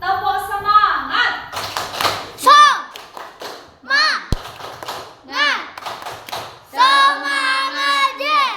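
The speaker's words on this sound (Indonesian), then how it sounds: "Coba tepuk semangat." Children in an Indonesian classroom perform a rhythmic spirit clap, with chanted voices mixed in, the claps landing in short patterned bursts among the children's voices.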